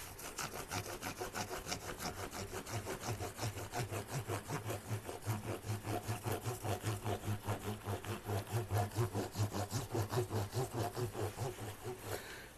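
Rag rubbing briskly back and forth over stainless steel guitar frets during a level, dress and polish job, a steady rhythmic swishing with regular strokes, close and alone.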